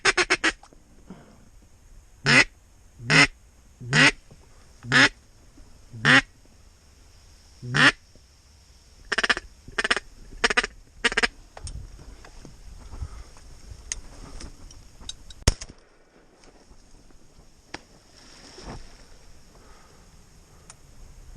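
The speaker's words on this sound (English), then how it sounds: "there's duck everywhere" Ducks at a flight pond quack in a long series of loud, evenly spaced calls, nearby and outdoors, followed by a quieter stretch of faint background noise with no talking.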